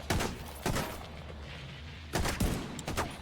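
Gunfire in the video game The Division 2, two short bursts of loud, crackling shots a couple of seconds apart, with quieter sound in the gap between them.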